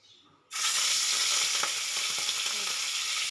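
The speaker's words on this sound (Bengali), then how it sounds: "আমি এবার চিংড়ি মাছগুলো ভেজে নেব।" Prawns frying in a small amount of hot oil in a wok, a loud, dense sizzle that bursts in suddenly and holds steady at close range, with a few faint stirring clicks and no voices.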